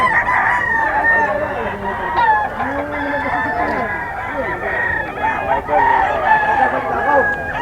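Roosters and stags at the Bocaue pet market crow loudly and repeatedly, overlapping harsh calls mixed with clucking, close and busy, with a voice speaking under the birds.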